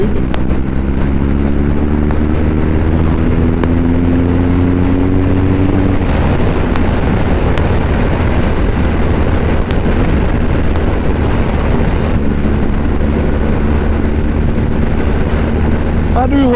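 A BMW R1200GSA motorcycle rides along a road, its engine droning steadily throughout with a rising tone early on, loud and continuous under constant wind rush.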